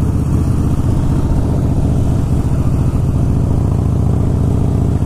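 Harley-Davidson Blackline Softail motorcycle cruising on a ride, its loud V-twin engine thumping steadily and continuously throughout, close and dominant with no voices.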